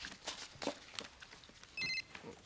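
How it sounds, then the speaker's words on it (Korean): A telephone bell rings once in a short, faint electronic burst of about a fifth of a second, set against a quiet room with scattered clicks and rustling. "야, 김민정 너한테 전화 왔어"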